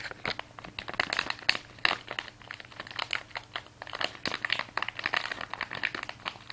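An over tape package for a Medtronic Enlite sensor crinkles and rustles up close in quick irregular bursts as it is handled and pulled out, with no talking.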